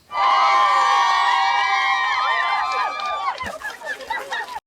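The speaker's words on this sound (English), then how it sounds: "let's just preview the crowd sound" A loud, dense crowd roar with cheering and shouting voices, sustained for about three seconds before breaking into scattered whoops and choppier chatter.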